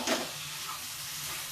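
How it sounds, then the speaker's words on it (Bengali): Tomato masala for rui fish curry fries in a pan with a soft, continuous sizzle and hiss, opening with a quick stirring scrape. "এবার এইগুলো দিয়ে একটু নাড়াচাড়া করব"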